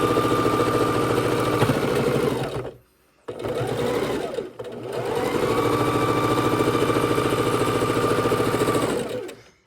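A sewing machine runs in long steady bursts as it stitches across pieced quilt blocks. There is a brief pause near the start and another short dip before it resumes at an even, continuous hum.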